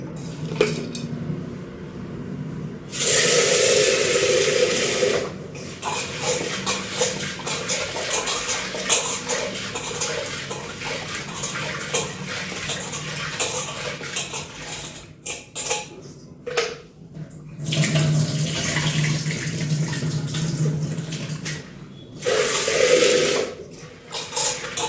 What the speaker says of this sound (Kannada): ಶೇಂಗಾ, ಇವು ಚೆಂದಾಗಿ ತೊಳಿಬೇಕು.